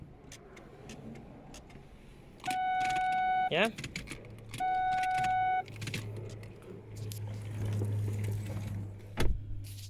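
A Ford Focus gear selector, reconnected after being unplugged while its brake pedal sensor is faulty, gives two steady electric whining tones, each lasting about a second, close by over background noise and a brief spoken word.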